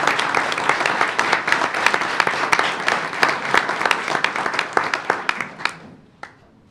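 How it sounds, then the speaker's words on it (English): A round of applause breaks out at a regular school board meeting, dense clapping from a roomful of people that holds steady for several seconds, then thins to a few last claps and fades out. "Let's give them a round of applause if they would come forward,"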